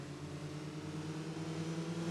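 Game car engine in Burnout 3 on Xbox, a steady, loud drone holding one pitch for about two seconds with no voices over it.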